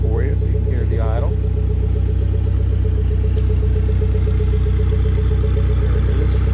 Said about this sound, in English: my 1998 Lotus Esprit V8 twin turbo. It is idling